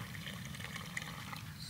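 Water is poured a little at a time into a dough mix at an outdoor bushcraft campsite, Trekkingplatz Imsbach, giving a soft, steady trickle close by with no talking.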